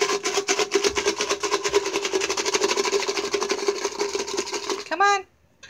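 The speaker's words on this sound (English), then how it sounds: "Are you afraid of that big vacuum cleaner?" A large vacuum cleaner runs with a steady, whirring motor drone for several seconds, then cuts off abruptly as a voice is heard and near-silence follows.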